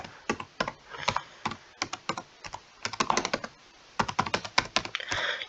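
Rapid clattering keystrokes on a computer keyboard, typed close by in uneven bursts with short pauses between runs, no voices.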